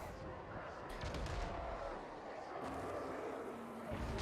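Rapid volleys of gunfire from Chaos Dwarf gunners in the Total War Warhammer 3 video game, a dense stream of sharp cracks and booms rolling on under a broad battle din, with no pause.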